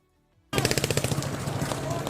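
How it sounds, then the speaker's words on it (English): Rubber bullets and flashbangs go off at a street protest: after brief quiet, a loud rapid string of pops and bangs fires in quick succession for about two seconds. "You hear that? Rubber bullets, flashbangs."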